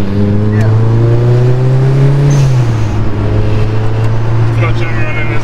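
A Mitsubishi Evo rally car engine idles and revs steadily up close during warm-up, its low drone rising and settling, with a voice talking over it.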